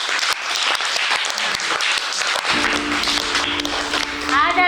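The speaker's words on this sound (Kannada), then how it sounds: "ಎಲ್ಲರೂ ಜೋರಾಗಿ ಚಪ್ಪಾಳೆ ಹಾಕ್ರಿ." Crowd of children in an anganwadi classroom clapping loudly, dense and continuous, with voices and chatter mixed in and a brief tonal squeal near the end.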